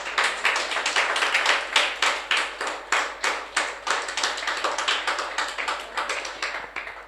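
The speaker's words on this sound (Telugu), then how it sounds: "చప్పట్లు కొట్టండి సార్" Rhythmic clapping from an audience at a Christmas church gathering runs steadily throughout, a continuous patter of many hands keeping a fairly even beat.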